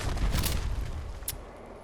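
A Furious combat rifle fires rapidly in Fallout 76, giving a close burst of sharp shots early on and then one more crack near the end, with no talking.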